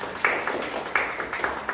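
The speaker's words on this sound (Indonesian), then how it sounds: "beri tepuk tangan buat Mas Rangga" Applause for Mas Rangga: a few scattered claps from a small group, brief and moderately close, with soft murmuring beneath.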